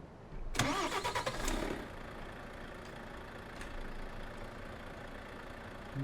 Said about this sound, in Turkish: Şöyle bir kontağımızı çalıştıralım.